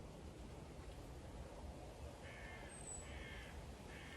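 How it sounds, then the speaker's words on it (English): Faint, steady background hiss with a few short, harsh bird caws and one thin high chirp in the second half. "I can hear a bird close by."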